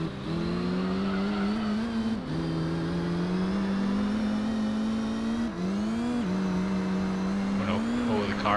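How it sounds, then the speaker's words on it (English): Gran Turismo 3 race car drifting through a corner, its engine droning loudly and steadily with pitch dips and rises as it slides, a faint tire squeal near the end. "Oh no, oh the car's drifting."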